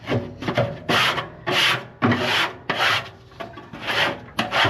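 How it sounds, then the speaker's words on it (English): Metal scraper dragged repeatedly down the inside walls of a pellet grill to clear grease, producing close, loud rasping strokes in a quick uneven rhythm with short pauses between scrapes. "scrape down the sides and get all that additional grease out of there"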